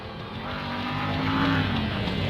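A simulated NASCAR race car in NASCAR Thunder 2003 doing a burnout at Talladega, its engine roaring in a loud, steady, slightly rising drone for a couple of seconds, with no voices.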